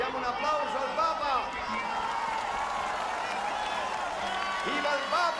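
A large crowd applauds continuously for Pope Francis at a meeting with the Neocatechumenal Way, with cheering and voices mixed into the sustained, dense roar of clapping.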